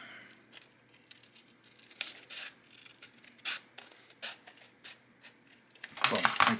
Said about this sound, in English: So what I actually do is I cut this out